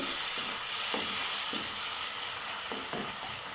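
Sautéed onions and tomatoes are pressed and mashed in a hot pan, a steady sizzle underlying several soft rhythmic thumps and scrapes of a spoon against the pan.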